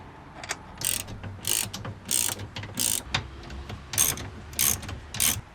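A hand ratchet tightens the seat base bolts of a VW Crafter swivel seat, clicking close up in about ten quick back-and-forth strokes at a steady rhythm.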